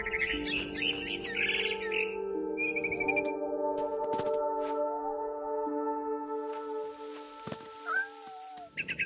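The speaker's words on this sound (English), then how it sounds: "Then I heard chirping outside my window. It was a barn swallow going back to her nest." A barn swallow chirps in a video game, with quick high twitters early on, then a curling call near the end, over layered synthetic tones and music-like drones.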